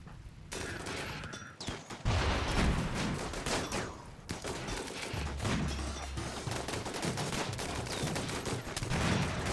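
Gunfire in the colony game Rimworld, set in a cold bog: irregular volleys of shots crack and thump in clusters across the clip, some close and loud, others sparser, with little talk.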